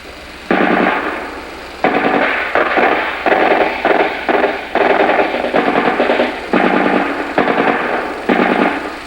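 A machine gun fires on an enemy bunker during a combat patrol raid, loud rapid bursts repeated in short strings with brief pauses, close and dominant with no talk.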